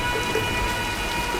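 Heavy rain pours steadily in a storm in the video game Tomb Raider: Definitive Edition, a dense close hiss with a low thundery rumble underneath and no speech.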